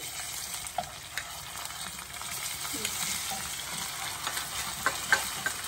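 Ginger garlic paste frying with golden onions in a pan for chicken fry, a faint steady sizzle with occasional soft stirring clicks and scrapes, no voices.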